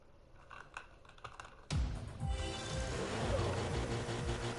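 Rapid, faint clicking of typing on a computer keyboard, then a sudden louder wash of noise that partly buries the keystrokes for the rest of the moment.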